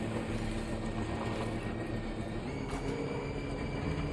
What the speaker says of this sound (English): I can probably just take the monorail down, right?